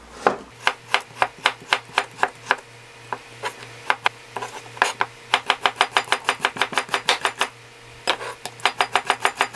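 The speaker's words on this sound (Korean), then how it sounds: "알타리 무를 납작납작하게 일단 썰을게요." A knife slices pickled altari radish from dongchimi into thin pieces on a board, making rapid, evenly spaced crisp chops in quick runs with brief pauses between them.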